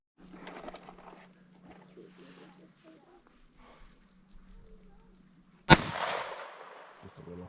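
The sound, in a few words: gunshot fired at a Tannerite target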